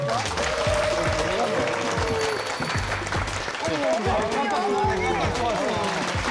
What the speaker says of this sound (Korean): 자, 박수로 맞이해주십시오.